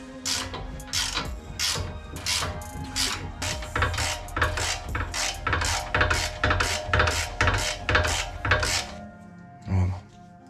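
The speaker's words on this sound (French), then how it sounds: "Pour ça on utilise un cliquet normal." Ratchet wrench clicking steadily as it turns back a brake caliper piston on a Mercedes W204 C63 AMG, about fifteen close, loud, rhythmic ratcheting strokes, then a brief pause and a final clunk.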